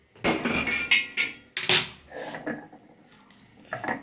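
Cooked sweet potato chop ingredients being ground on a shil grinding stone, a series of close, irregular knocks and scrapes of stone on stone, with pauses between strokes and no talk.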